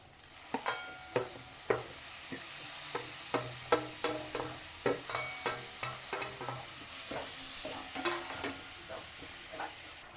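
Tomatoes frying with onion, green chilli and curry leaves for bitter gourd palya, a quiet sizzle under repeated sharp scraping and clacking strokes of a spoon stirring the pan at an uneven rhythm, with no talking.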